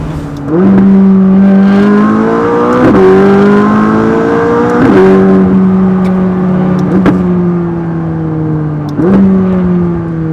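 A McLaren 600LT twin-turbo V8 revs hard while driving, climbing through several gears in loud rising pulls, each shift marked by a sharp drop in pitch before the next surge.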